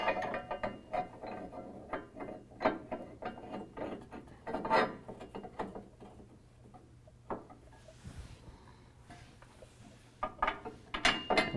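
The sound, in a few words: ratchet tightening bolts on a truck bumper bracket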